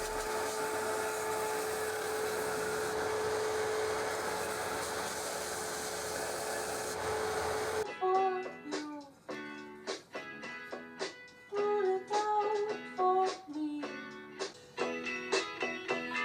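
A belt sander smooths the curve of a ukulele's wooden body with a steady, loud whirring roar for about eight seconds, then stops abruptly and gives way to plucked, melodic string notes.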